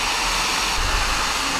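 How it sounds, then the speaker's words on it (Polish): A hair dryer blows steadily at close range, a constant airy whoosh with a low motor hum and no pauses. "na pielgrzymce dobrze jest być wyposażony w suszarkę"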